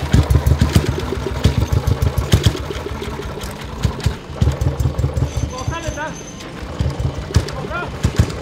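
A go-kart engine on a speedway track turns over and sputters with rapid, rough pulsing, loud and close, dropping back and picking up again while people talk nearby.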